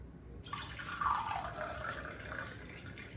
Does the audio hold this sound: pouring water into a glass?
yes